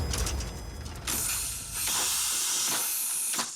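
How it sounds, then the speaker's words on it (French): Steam locomotive venting steam: broad, loud hissing bursts that surge and fade several times, with a sustained roar of escaping steam through the middle. "Ça grogne comme un gros monstre, ça éructe, ça envoie de la vapeur."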